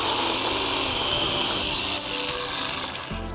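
Greenworks cordless pole chainsaw cutting a diseased tree branch, a steady high-pitched electric whine running close and loud before the tone dips and trails off as the cut ends.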